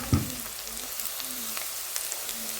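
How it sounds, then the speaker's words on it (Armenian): Onions and peppers fry in a pan with a steady close sizzle throughout, and a brief louder crackle comes near the start. "սոխնել, պղպեղնել տապակումը"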